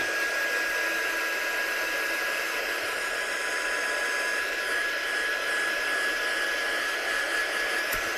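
A hair-dryer-style heat tool blows continuously to dry a cellophane craft piece at a studio station, a steady loud whooshing roar with a constant whine that holds unchanged throughout.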